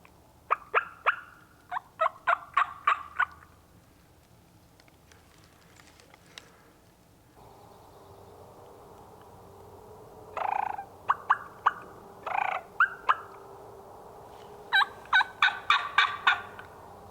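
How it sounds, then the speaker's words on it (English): Wild turkey gobbling repeatedly in Mississippi woods, several rapid rattling bursts in separate bouts spread over the stretch, fairly close, with quiet gaps and faint background noise between them. "He's gobbling a lot."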